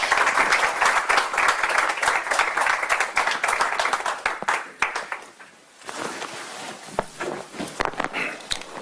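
Sustained audience applause at the end of an academic lecture, loud and dense at first, then thinning into scattered claps and shuffling footsteps as it dies away.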